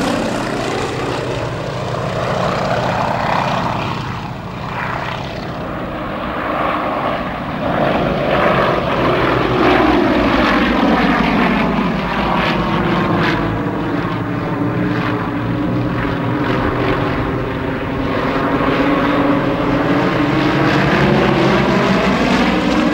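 Yak-52 and Nanchang radial-engine warbirds fly overhead in a massed group, their propellers and radial engines making a loud, continuous droning roar whose pitch sweeps up and down as the aircraft pass.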